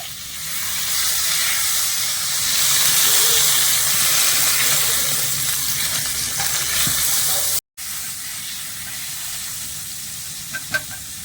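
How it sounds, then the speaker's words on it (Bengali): Potatoes and soybean chunks fry in a pan for a vegetarian biryani, giving a steady, fairly loud sizzle and hiss with some stirring. A brief dropout breaks it near the end, and there is no talk. "আলু আর সয়াবিনটা একটু ভালো করে ভেজে নিতে হবে একটু সময় নিয়ে"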